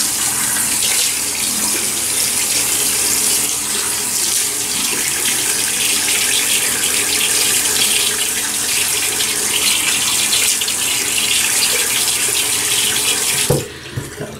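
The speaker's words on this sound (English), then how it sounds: "so let me wet the face." A tap runs steadily and loudly into a sink for about thirteen seconds while the face is wet before a shave over five days of beard growth, then cuts off with a couple of small knocks.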